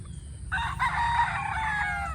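A single Asmina White rooster, a straight-comb breed, gives one loud close crow lasting under two seconds over a low background hum.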